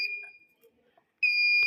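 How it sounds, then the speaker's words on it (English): Piercing, steady electronic tone from the buzzer of a student-built IR sensor burglar alarm, sounding near and loud for a moment, pausing, then returning for a long, unbroken blast. "when the IR sensor the light passes through each other, then the buzzer will on"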